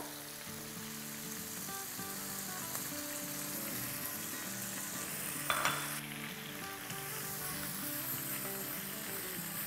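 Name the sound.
masala frying in a pan for tandoori kabab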